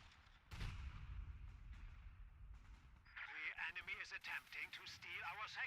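Artillery barrage in a WWII strategy game set in the Battle for Caen, shells landing on a mechanized headquarters: a loud low boom near the start, then rumbling impacts and crackling fire under a voice talking.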